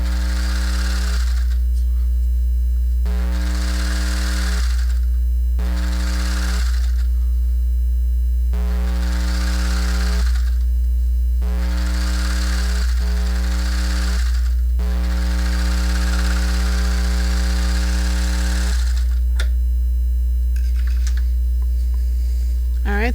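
A serger runs in a steady, humming motor whine while overlocking the hem of a pair of jeans, stopping and restarting in bursts of a few seconds with short pauses between them.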